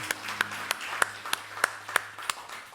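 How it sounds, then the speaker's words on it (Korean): Sparse, evenly spaced claps ring out in a church during a Sunday morning worship service, about eight sharp hand claps in a steady beat over a low background hum. "우리 하나님께 영광의 박수 올려드려요."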